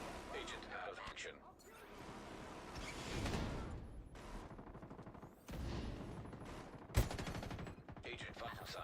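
Minigun fire in The Division 2, with bursts of rapid gunfire and heavy impacts in a chaotic firefight, a sharp loud blast near the end, and game voice callouts in the mix.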